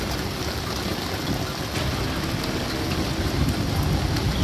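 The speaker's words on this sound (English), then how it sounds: "Raining very much" Heavy rain pours down during a severe thunderstorm in a dense, constant hiss with a low rumbling undertone, steady and unbroken.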